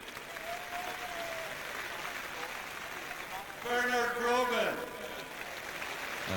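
Stadium crowd at the 1999 All-Ireland football final between Meath and Cork applauding Meath players, a broad steady roar of clapping that swells briefly as a commentator's voice speaks over it.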